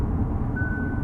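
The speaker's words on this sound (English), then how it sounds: "That's a lane departure warning." Lane departure warning in a 2025 Hyundai Ioniq 9 Ultimate 307 AWD, a single short steady electronic tone rising over low cabin road rumble during driving.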